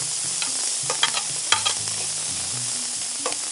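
Onion sizzling as it fries in a hot pan, a continuous close crackle broken by several sharp scrapes and taps of a stirring utensil.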